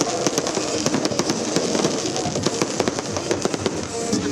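A dense New Year's countdown fireworks display: rapid crackling bursts and sharp pops in an irregular stream over a constant roaring background, loud and sustained.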